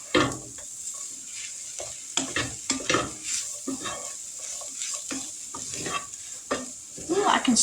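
Filling for a burrito casserole stirred in a pan, with repeated scraping strokes and a soft sizzle of frying underneath, close and moderately loud without talk.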